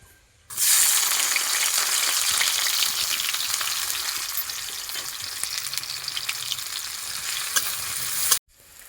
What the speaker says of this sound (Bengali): তেল গরম হয়ে গিয়েছে পেঁয়াজ দিয়ে দেবো